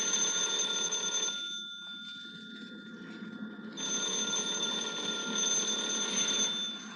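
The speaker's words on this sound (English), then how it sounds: "Are you going to answer the phone?" A telephone rings with a steady electronic bell tone in two long bursts separated by a short pause, fairly loud and alone.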